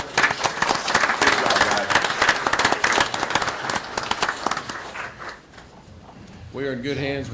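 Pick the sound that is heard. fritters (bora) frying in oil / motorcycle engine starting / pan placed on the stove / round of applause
round of applause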